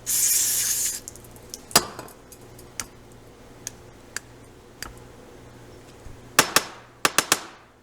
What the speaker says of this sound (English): Usually it's not going to come out without a little bit of help with some brake clean.